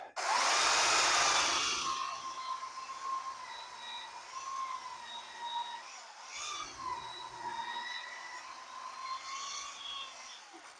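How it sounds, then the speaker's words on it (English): A belt sander fitted with 80 grit paper levels the painted wood of an old birdhouse: a loud harsh burst of sanding for about two seconds, then the motor keeps whining steadily at lower level with a brief bump midway. "I'm going to give this a quick hit with my belt sander. 80 grit."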